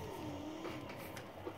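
Ken Block's Hoonigan drift car in Forza Horizon 5 idling and revving quietly, a low steady engine tone with a faint pitch sweep, heard alone and far in the mix.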